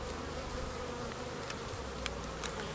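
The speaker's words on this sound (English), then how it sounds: "now the bees are trying to get out" Honey bees trying to escape a queen-marking tool or enclosure give off a dense, continuous buzz, close and steady, with a few brief louder bursts as individual bees pass near.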